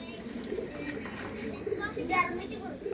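A female racer pigeon coos softly amid continuous background chatter, with children's voices nearby and a few brief calls rising over the murmur.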